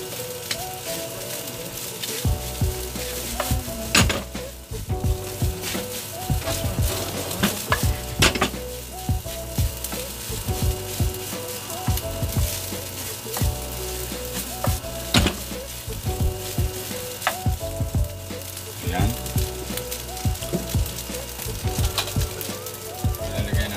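A spatula scraping and clanking in a pan while salted egg fried rice with carrots and chicken sizzles, repeated stirring strikes over a steady frying hiss, close, with occasional speech-like sounds in the background.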